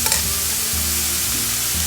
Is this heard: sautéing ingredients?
yes